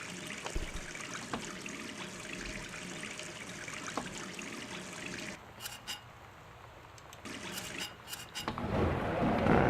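A bathtub tap running in the video game Gone Home makes a soft, continuous trickle and splash of water, fairly faint with small clicks through it, then swells into a louder rushing pour near the end.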